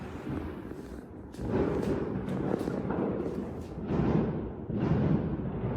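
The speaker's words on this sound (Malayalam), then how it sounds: "ശരിക്കും ബോംബൊക്കെ പൊട്ടണ പോലില്ലേ?" Fireworks explode outdoors on Bonfire Night in the UK, a rolling series of muffled booms and crackles from several directions that swells and fades over a steady background.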